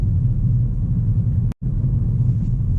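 Inside a 2017 Acura ILX cruising at about 34 mph in a high gear below 1500 RPM, a loud, steady low engine and road rumble continues with one brief dropout midway.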